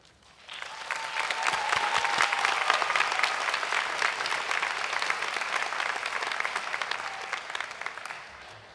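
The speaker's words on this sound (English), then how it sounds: "let's give the graduates one more round of applause" A commencement crowd applauds the graduates: clapping swells in quickly, holds as a full, even roar of many hands for several seconds, then thins and tapers off near the end.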